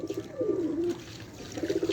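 Pigeons cooing at close range, soft repeated throaty coos in a low rolling rhythm with faint background noise, no talking.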